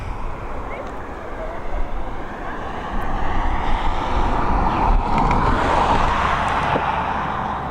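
An Airbus A320neo coming in to land at Dublin Airport after a flight from London Heathrow, a steady broad jet roar that grows louder toward the end, mixed with wind buffeting on the microphone.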